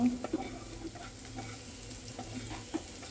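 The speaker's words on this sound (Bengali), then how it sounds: "এবার দিয়ে দিচ্ছি পেঁয়াজ কুচি চার পাঁচটা কাঁচামরিচ এগুলোকে নেড়ে চেড়ে ভাজিয়ে নেব" Chopped onion and four or five green chilies frying and being stirred for a spicy quail egg curry, a soft, faint sizzle broken by a few light spatula scrapes, with no talking.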